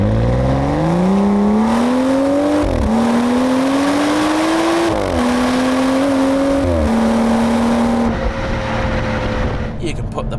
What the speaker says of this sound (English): I think the car definitely needs a little bit more of a kick from the exhaust